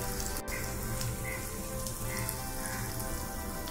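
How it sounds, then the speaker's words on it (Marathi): Spices sizzling in hot oil on a gas stove on low flame while making soya chunks masala, a steady, close crackling hiss throughout. "मसाले सगळे व्यवस्थित फ्राय झाले आहे आणि तेल पण चांगलं सुटायला लागलं आहे"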